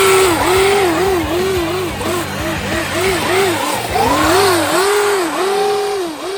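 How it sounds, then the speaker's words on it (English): A 6S Traxxas UDR RC car drifts on ice and slush down a road, its electric motor whining in rising and falling swoops as the throttle pulses, loud and close throughout. "Drifting all the way down the road."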